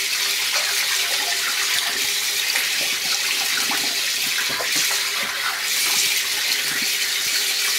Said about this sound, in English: Gonna go to the sink and